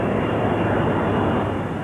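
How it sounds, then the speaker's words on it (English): A Boeing 777 twin-engine jet airliner roars steadily and loudly, a dense broadband rush of engine noise with no other sounds over it for about two seconds. "The fastest commercial airplane in the world, Boeing's new 777"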